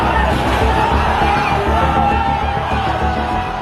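A crowd of demonstrators surging toward Parliament cheers, whoops and yells in a dense, continuous roar, loud and close throughout.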